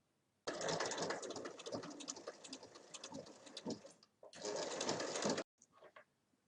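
A domestic sewing machine stitches along the edge of a zipper on a large multi-pocket fabric bag, running in two fast buzzing bursts with a brief pause between them, then a few short stitches.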